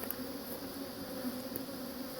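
Honey bees hum steadily at a hive being corrected for drone laying, a soft continuous buzz with a few brief louder passes from individual bees, no voices.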